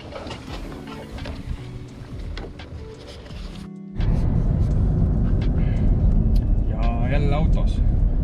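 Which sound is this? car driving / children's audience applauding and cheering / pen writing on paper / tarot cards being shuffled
car driving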